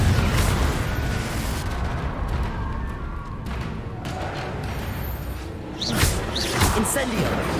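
Confringo blasting spells exploding in the Hogwarts Legacy video game: loud, dense booms and bursts with whooshing swishes, rolling almost continuously and swelling again near the end.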